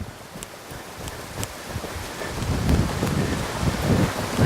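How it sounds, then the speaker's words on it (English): Rain begins to fall on a roof, a dense pattering hiss that grows steadily louder over a few seconds, with scattered sharper drops. "rain's coming and now starting to make a bit of a noise on the roof"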